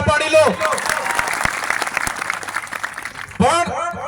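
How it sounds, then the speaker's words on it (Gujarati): Crowd applause for police officers at a public rally, a dense broadband patter sustained for several seconds, with a speaker's voice over it at the start and again near the end. "એમના માટે જોરદાર તાળીઓ પાડી લો"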